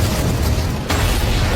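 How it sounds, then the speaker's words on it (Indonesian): Bomb explosion in the 2011 film The Mechanic, a loud broad roaring blast that dips briefly and then surges again, filling the whole moment with no speech. "Tiba-tiba sebuah bom meledak."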